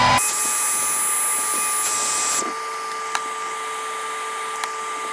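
A heat gun blows steadily on a freshly painted 1.5 squarebill crankbait, a close, even fan-and-air hiss that drops to a quieter setting partway through, with a couple of faint clicks.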